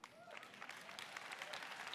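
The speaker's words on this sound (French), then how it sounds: "Applaudissements du public" Brief audience applause, a soft, dense patter of many hands heard from a distance with faint crowd murmur underneath.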